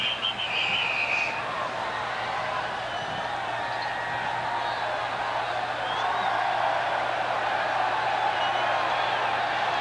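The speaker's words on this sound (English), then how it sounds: "Nice to hear the fans alive at McMahon in Calgary. We've got the wave going here." A crowd of about 24,000 at McMahon Stadium in Calgary during a 1987 CFL football game between the BC Lions and Calgary Stampeders roars continuously as the wave circles, a broad, distant swell of cheering and whooping that never drops away.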